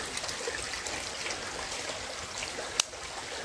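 Stream water flows steadily near a campfire in the countryside, a soft continuous broadband rush without pauses, with one sharp click near the end and no talking.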